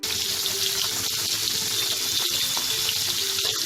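Pabda fish salted and rubbed with turmeric fry in two spoonfuls of hot mustard oil, giving off a dense, steady sizzle and crackle at close range with a few small pops.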